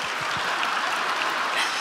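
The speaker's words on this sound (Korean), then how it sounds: "박수 한번 부탁드립니다" A crowd applauds steadily at a church Bible recitation contest, a dense wash of clapping sustained throughout without pause.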